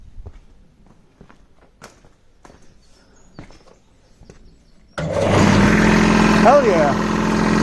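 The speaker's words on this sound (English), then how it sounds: "Let me plug this back in and try this compressor again." An air compressor in a garage during a Ford GPW Jeep rolling-chassis build switches on abruptly partway through, running loud and steady after a stretch of quiet footsteps and handling noises.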